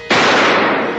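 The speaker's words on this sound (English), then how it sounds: "A gunshot." One sharp, loud gunshot cracks close by in a crime drama scene and fades quickly into a short echo.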